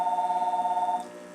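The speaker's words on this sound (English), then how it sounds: "the phone's ringing." A telephone rings steadily with a warbling electronic tone for about a second, then stops, leaving faint room noise.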